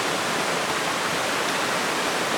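Creek water rushing steadily in a broad, continuous wash with no gaps, close by and moderately loud, with no voices over it.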